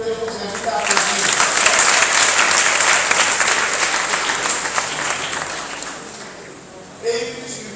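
Audience applause for a parish priest at a church celebration marking anniversaries of first baptisms, a dense crowd of clapping that builds quickly, holds steady for several seconds, then thins out with a brief burst near the end.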